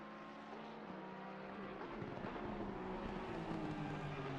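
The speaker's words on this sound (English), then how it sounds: "As you hear that high RPM Boxer 6" A high-revving Porsche boxer six engine in a GT racing game at Watkins Glen, a steady loud whine with rising pitch that holds throughout, mixed with other car engine tones and no talking.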